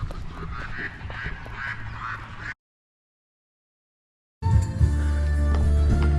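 Birds call in a busy outdoor setting in Kep, Cambodia, with goose- or duck-like honks repeating close by; the sound cuts out for about two seconds and then returns louder.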